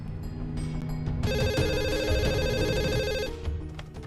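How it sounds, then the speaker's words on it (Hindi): A phone rings on speaker during a call, with an electronic ringtone tone pattern sounding steadily for a couple of seconds, close and loud over a faint room background. "माँ को फोन लगा और डाल दे स्पीकर पे।"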